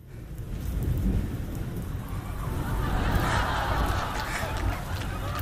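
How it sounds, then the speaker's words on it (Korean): Simulated heavy rain and rolling thunder fill a 4DX screening of Parasite, a dense, continuous roar of downpour with deep rumbles swelling throughout. "야, 비 많이 온다."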